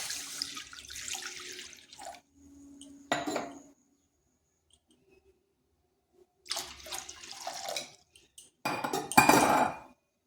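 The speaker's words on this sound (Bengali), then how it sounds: "দিয়ে দিচ্ছি জল।" Water is poured into a kadai, a running splash that comes in several separate pours with clinks of metal and quiet gaps between them.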